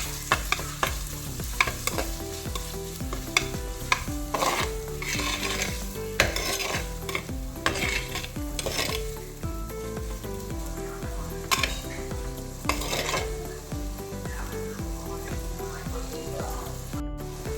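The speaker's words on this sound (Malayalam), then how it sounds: "വെളുത്തുള്ളിയും ഇഞ്ചിയും ചെറുതായിരുന്നത് നന്നായിട്ട് വഴറ്റാം." Garlic and ginger sautéing in a pan: steady sizzle with repeated scraping stir strokes at a moderate, close level, broken by sharper utensil clicks throughout.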